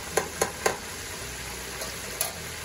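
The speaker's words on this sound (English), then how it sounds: "your oysters will talk to you while they're frying" Steady crackling sizzle of blue-corn-coated oysters frying in hot oil, with a few sharp pops and spatters standing out near the start and one more toward the end.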